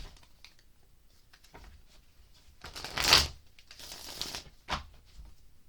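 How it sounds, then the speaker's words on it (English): Oracle cards being shuffled, a few soft riffling bursts with one louder flurry midway and a short snap near the end, close and alone without talk. "now we're gonna pull some clarifiers with Mystic Moon's Oracle cards"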